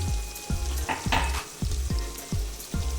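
Ginger garlic paste frying in hot oil for a Maharashtrian green chickpea rice dish, a steady close sizzle broken by a few sharp stirring knocks in a pan, with no voices.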